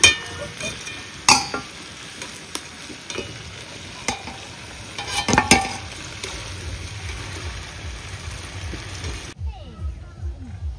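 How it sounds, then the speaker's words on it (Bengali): Potatoes sizzle in a pan on a home stove, with steady frying hiss broken by a few loud scraping stirs and utensil clinks. Near the end the sizzle cuts off abruptly. "আলুটা লাল লাল করে ভেজে নেবো।"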